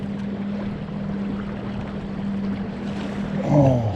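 A trolling motor runs on a marine battery out on the water, giving a steady low electric hum under wind and water noise that wavers near the end, with no voices.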